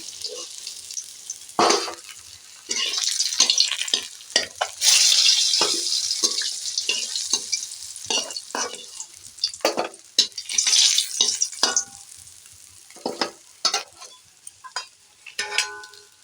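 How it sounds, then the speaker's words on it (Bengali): Palta leaves hit hot oil left from frying fish, setting off loud, irregular popping and crackling bursts over a hissing sizzle, close up with no talking. "এই তেলের উপরে পলতা শাক দিলেই একটু তেলেতে আওয়াজ হয় ফটফট করে"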